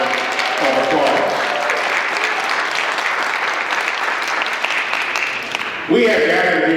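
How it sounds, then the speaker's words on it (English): A forum audience applauds steadily. The clapping is sustained and fairly loud, and a voice speaks over it near the end. "Give yourselves a round of applause."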